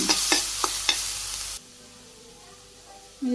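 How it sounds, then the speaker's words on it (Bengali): Greens with eggplant and garlic fry lightly in a pan with a close, steady sizzle and a few sharp stirring clacks, then the frying cuts out abruptly into near silence before resuming at the very end. "এখন আমি একটু সামান্য রসুন দিয়ে দিন আবারও অল্প একটু দিলাম বেগুনের সাথে একটু হালকা ভাজি করে নামি"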